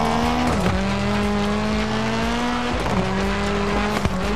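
Rally car in the Dirt Rally 2 game, engine roaring at full throttle with rising revs, gear-shift dips and brief tire squeal, loud and close throughout.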